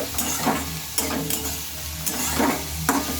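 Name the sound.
cauliflower frying with garlic and chili in a pan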